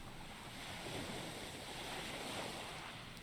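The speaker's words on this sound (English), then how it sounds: "Listening to the endless sounds of the rising and falling waves" Ocean surf in a visual novel game scene at night, a soft continuous wash of rising and falling waves with a faint breezy hiss, steady and quiet throughout with no voices.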